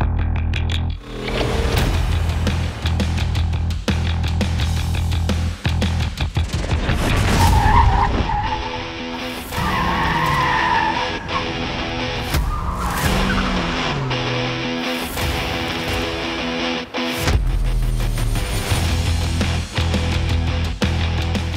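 An Audi A4 pushed hard on a performance test track: roaring engine revving up and down through gears, with repeated tire squeals and skids, loud and close throughout.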